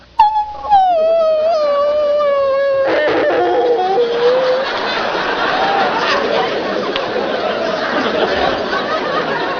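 A voice imitates an old dog's bark on a comedy festival stage, with a wavering, howl-like yowl followed by rough, hoarse barking sounds under crowd noise and chatter.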